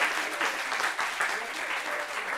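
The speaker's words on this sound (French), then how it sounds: "Applaudissez." A studio audience at a French talk show claps continuously, a full even wash of applause at steady strength throughout, with faint voices beneath.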